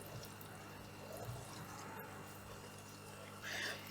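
Okra (bhindi) sizzles steadily in hot oil while frying for a mutton bhindi gosht, a constant close crackling hiss with a slight swell near the end.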